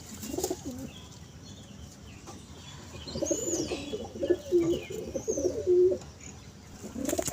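A female pigeon coos in repeated low, rolling phrases close by, the cooing swelling in the middle of the stretch, with faint chirps and a brief flutter of wings around it.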